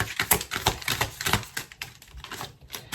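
Tarot cards are shuffled by hand, giving a dense run of quick, crisp riffling taps and flicks that rise and fall in uneven bursts, close and fairly quiet, with no talking.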